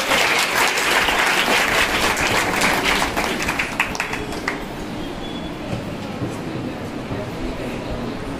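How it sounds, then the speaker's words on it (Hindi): Loud audience applause at a school Independence Day celebration rattles for about four and a half seconds, then tapers off into a quieter room murmur as the clapping fades out. "एक बार हमारे प्रबंधक महोदय जी के लिए भी एक बार जोरदार तालियां बजा दीजिए।"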